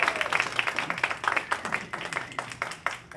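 Crowd applause for a band at a music convention, close and lively, with individual claps standing out in a quick, uneven rhythm throughout the short burst.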